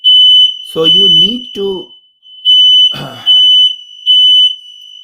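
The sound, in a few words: fire alarm going off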